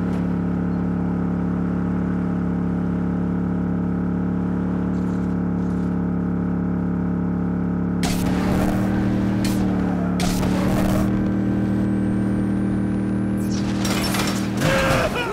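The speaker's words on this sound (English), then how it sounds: "why am I driving a monster truck?" A monster truck engine in the video game Saints Row drones steadily and loudly, then revs harder halfway through amid bursts of crashing and rumbling impacts.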